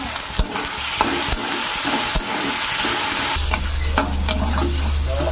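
Onions frying in oil with salt, turmeric and a ginger-garlic-cumin paste, a loud continuous sizzle with brisk scraping strokes of a spatula. The hiss deepens partway through, close and without voices.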